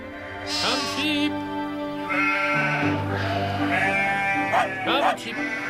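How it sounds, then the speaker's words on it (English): Sheep bleat repeatedly, several wavering calls overlapping at close range, with a low rumble underneath. "Come, sheep! Come on, we're going to the pastures further up the hill."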